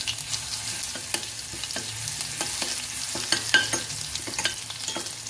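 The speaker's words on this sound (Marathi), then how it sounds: "लसूण पण तळला गेला आहे" Garlic frying in a pan for a Marathi-style eggplant (vangi) bhaji, with a soft steady sizzle under repeated scraping and clinking of a spatula stirring at an irregular rhythm.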